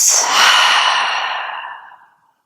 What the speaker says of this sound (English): Take a big breath in. Full breath out.